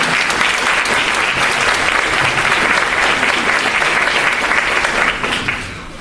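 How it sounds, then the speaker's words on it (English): Loud, sustained applause from the crowd at the reopening ceremony of an early childhood center, a dense continuous roar of clapping that fades out over the last second. "Can we give them a round of applause?"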